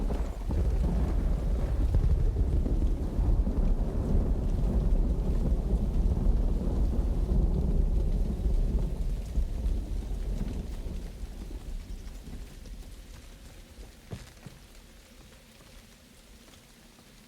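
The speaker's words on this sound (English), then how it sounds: "Let's look around a little bit in the rain here." Rain and rolling thunder in the video game Uru form a low, heavy rumble that is strongest at first and gradually fades to a quieter wash of rain, with no voices.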